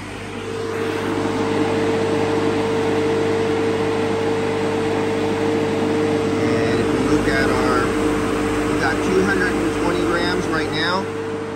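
A Fieldpiece MR45 refrigerant recovery machine pumps refrigerant from an automotive system, giving a steady, loud mechanical hum with a constant tone that runs through the whole stretch, while a person talks over it.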